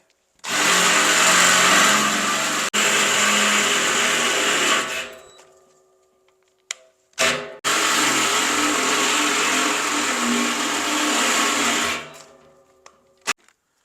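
A power drill whines steadily for about four seconds, stops, then runs again for another four seconds while boring a half-inch hole, loud and close, with a few clicks between.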